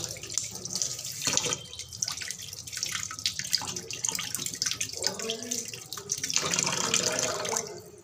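A soaked wok (kadai) is rinsed under a running kitchen tap, with uneven splashing and gushing water that rises and falls as the pan is turned, close by and without talking.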